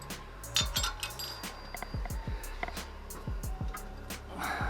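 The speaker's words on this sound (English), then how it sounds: "Washer. Don't forget your washer." A metal washer clinks while a King shock is installed on a 3rd-gen Toyota 4Runner; several sharp, light metallic taps sound up close against a quiet background.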